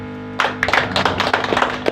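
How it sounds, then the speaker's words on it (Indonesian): A small group claps at a home thanksgiving and get-together, irregular hand claps starting after a short pause and continuing over a steady low hum, fairly close. "Nah, tepuk tangan dulu."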